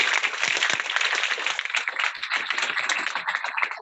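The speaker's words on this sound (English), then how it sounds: "You need to clap for Sandeep" An audience at a university orientation program applauds, a close, dense clatter of many hands clapping steadily from start to finish with no talking.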